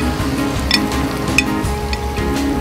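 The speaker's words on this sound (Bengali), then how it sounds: "এই তেলেই চিকেনটা দিয়ে দাও, চিকেনটা দিয়ে ভেজে তোলো।" Chicken pieces frying in a small amount of oil in a pan, a steady close sizzle with occasional light clinks of a utensil stirring.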